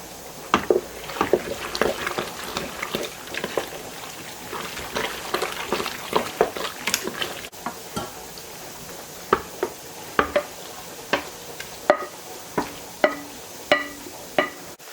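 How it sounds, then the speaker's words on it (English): A cheese sauce is stirred into a casserole dish by hand, giving a run of soft, wet scraping and clinking strokes that start busy and thin out into separate spaced taps, close and fairly quiet with no talk. "Stir that in, and we'll stir in all the cheese sauce."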